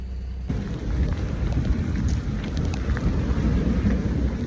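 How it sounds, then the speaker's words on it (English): A heavy summer thunderstorm in Washington, DC, with steady loud rainfall, a deep continuous rumble of thunder underneath, and wind, starting abruptly after a brief quiet moment. "I just got out of my cycling class and it's thunderstorming"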